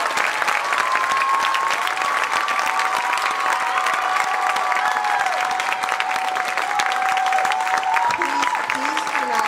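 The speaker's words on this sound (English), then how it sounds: "round of applause for Connie" A concert audience at the 2019 RHS Hodags Spring Concert applauds for Connie, with sustained, dense clapping throughout, loud and close, and a few voices and whistles rising over the crowd.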